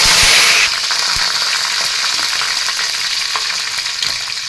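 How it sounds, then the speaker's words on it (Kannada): Mustard seeds, two dried chillies and curry leaves fry in hot oil with asafoetida for vangi bath, a loud crackling sizzle that flares at the start and then settles into steady spitting, no voices. "ಒಂದು ಅರ್ಧ ಸ್ಪೂನ್ ಸಾಸಿವೆ ಸಿಡಿದಿದೆ ಎರಡು ಒಣಮೆಣ್ಸಿನ್ಕಾಯಿ ಹಾಕೊಳ್ಳೋಣ ಕರಿಬೇವು ಒಂದೆರಡು ಹಾಕೊಳ್ಳೋಣ"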